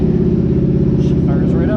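A Toyota 4Runner with a swapped 1UZ V8 engine settles into a steady, loud low idle just after starting, a constant close rumble.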